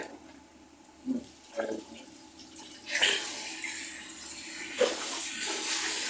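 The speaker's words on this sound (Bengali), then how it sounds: "খালা একটু কাজ করতেছে শালার চালগুলো ধুইতেছে" Rice grains are washed in water by hand, with splashing and swishing pours that swell in bursts over a steady watery wash.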